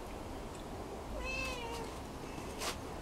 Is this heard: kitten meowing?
yes